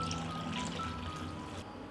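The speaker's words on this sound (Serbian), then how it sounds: "U šerpu sipam hladnu vodu do visine poklopca." Cold water pouring steadily into a pot holding glass jars set on a cloth, a continuous close rushing trickle that stays even throughout.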